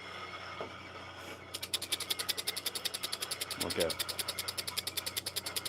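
An electric coffee grinder, a Gen 1 model with no RPM control, starts up and runs fast with a steady, rapid pulsing whir, loud and close, after a brief spoken word.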